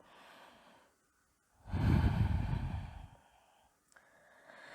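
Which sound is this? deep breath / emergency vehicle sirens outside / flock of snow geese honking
deep breath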